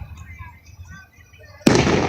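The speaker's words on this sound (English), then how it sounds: "They got them crazy fireworks." Fireworks going off outdoors at a display: after a quiet stretch with soft background murmur, one sudden loud burst breaks out and rolls on as crackling rumble to the end.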